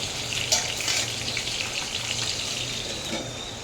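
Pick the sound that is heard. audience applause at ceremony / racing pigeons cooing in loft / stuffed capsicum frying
stuffed capsicum frying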